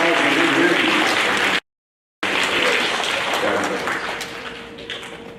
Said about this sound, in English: How about a round of applause for our technology and engineering.